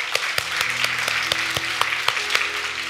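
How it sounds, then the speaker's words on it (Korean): Church congregation clapping at a Korean Sunday worship service, a steady wash of hands with a few sharper individual claps standing out, sustained and fairly close with no talk. "우리 하나님께 감사의 박수를 드리겠습니다."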